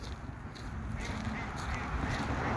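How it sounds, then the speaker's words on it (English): A green-headed mallard duck quacks a few times at a distance, faint against a noisy outdoor background. "Where's that duck I hear?"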